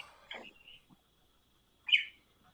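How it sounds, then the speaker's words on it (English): A pet budgie chirps faintly in the background of a room, giving a few brief, scattered tweets, one short burst a little louder than the rest. "There's a bird in the background. I hear a bird. He's a budgie."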